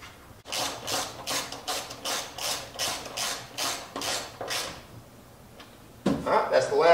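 A ratchet wrench clicks in a steady run of about ten strokes, bolting the rear bumper back onto a Jeep JK Rubicon with factory hardware, followed by a brief clatter.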